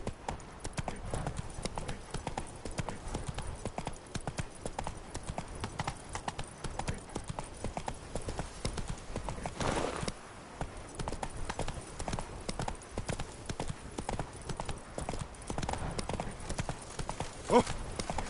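Roach the horse gallops in The Witcher 3, hooves drumming in a steady, dense rhythm throughout, close and moderately loud over a constant game soundscape.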